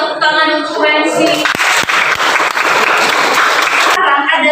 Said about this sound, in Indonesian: Tepuk tangan untuk Wensi.